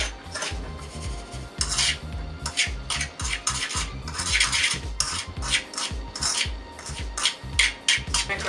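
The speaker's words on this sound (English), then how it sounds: "I'm just going to mix this up in the bowl." A utensil scrapes and clinks steadily against a bowl as snickerdoodle ingredients are mixed, in close, repeated strokes with no talking.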